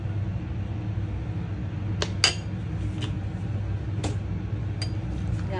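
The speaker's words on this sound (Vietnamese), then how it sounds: "Rồi bây giờ tất cả em sẽ trộn lại nha" Braised pork is tossed with onion, garlic and cooking oil, giving scattered metallic clinks and scrapes of a utensil against a bowl over a steady low kitchen hum, with no talking.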